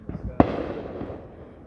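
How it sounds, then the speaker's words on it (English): Fourth of July fireworks seen from a dock: one sharp, close bang stands out, then a lingering rumble of the show in the background, with soft murmuring voices around it. "That the fireworks are popping in"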